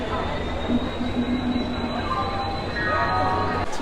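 A Howrah–Puri superfast train rumbles continuously, heard from inside a general coach, with a steady low roar, faint squeals and tonal whines rising near the end.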